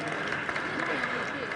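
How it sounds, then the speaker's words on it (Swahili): An audience at a water science conference claps after a documentary screening, a soft, distant wash of applause that stays even and fairly faint throughout. "Makofi tena kwa hiyo documentary nzuri."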